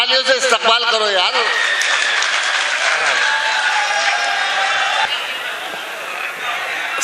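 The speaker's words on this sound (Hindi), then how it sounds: "जोरदार तालियों से इस्तकबाल करो" A mushaira audience breaks into sustained applause and crowd noise to welcome a poet, dense clapping filling the room alongside chatter and a voice over a sound system, tapering slightly toward the end.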